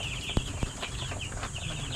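About a hundred chicks crowd a 96-square-foot coop, filling it with continuous shrill, overlapping peeps and cheeps, with a couple of sharp knocks nearby.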